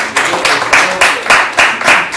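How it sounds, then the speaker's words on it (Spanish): Classroom applause for a student in a math lesson: a group of children clapping in a quick, regular rhythm. Evenly spaced bursts sound fairly close and loud over about two seconds. "A ver, un aplauso para Natalie"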